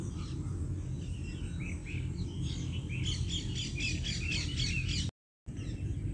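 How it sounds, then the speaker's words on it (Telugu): Colourful birds at the Indira Gandhi Zoological Park in Vizag chirp and squawk repeatedly over a dense, steady background hum, with a brief dropout near the end. "కలర్స్ పక్షులండి ఇవి"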